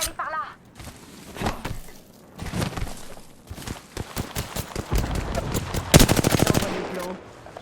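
Rapid bursts of gunfire from a shooter video game, with a sharp rattling volley near the end that stands out above the other sounds, while a voice talks intermittently throughout.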